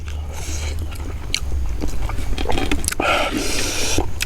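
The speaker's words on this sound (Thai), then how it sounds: "ขาหมูกรอบกินกับส้มตำ" Crispy pork leg eaten with papaya salad gives loud, close crunchy bites followed by wet chewing and smacking. Several sharp crackling bursts stand out over the steady mastication, with no talking.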